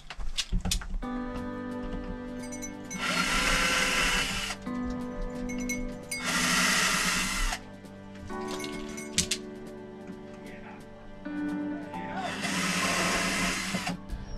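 A power tool cuts wood during a tiny home closet and bathroom remodel, in three loud, harsh bursts of a few seconds each over a steady tonal background.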